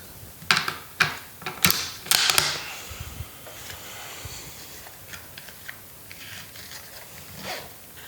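A CZ 550 American hunting rifle's bolt is worked to cycle and eject a round, giving a quick run of sharp metallic clicks and clacks over about two seconds, followed by fainter handling rattles.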